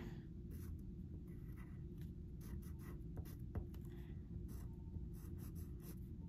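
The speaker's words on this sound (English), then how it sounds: "I'm going to write on my page some of those vocabulary words so that I don't forget them." Pencil or pen scratching steadily on a paper page, a very faint, continuous soft scribble with short strokes and pauses, alone without talk.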